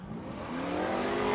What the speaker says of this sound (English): supercharged V8.